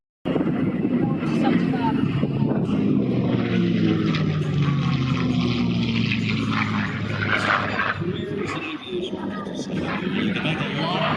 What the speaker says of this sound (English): This beautiful display of the B-51 Mustang.